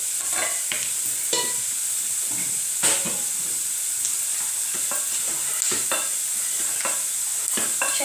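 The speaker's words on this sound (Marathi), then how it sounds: "शेंगदाण्याचं कूट टाकलं शाबूमध्ये." Sabudana with crushed peanut powder stirred in a pan, a steady close sizzle with repeated scraping strokes of a spoon against the pan, with no talking.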